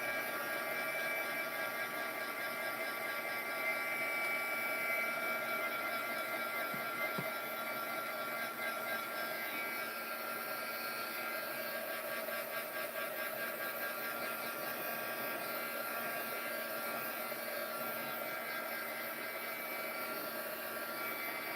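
Steady close whir of a hair dryer blowing on a drying craft project, holding an even broadband roar with a faint hum throughout and no pauses or talking.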